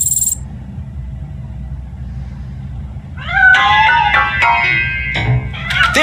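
A cat meows repeatedly in RoboCop Rogue City, several clear rising and falling cries close by over a low steady rumble after a short quiet start.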